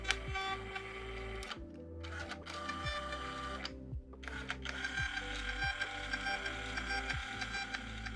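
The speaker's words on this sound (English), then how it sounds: "Even on the lowest setting, it prints much faster than my ink printer." A Bluetooth thermal label printer runs close up, giving repeated rapid mechanical ticks and short whirring feed bursts with brief pauses between labels, steady and fairly quiet with no talking.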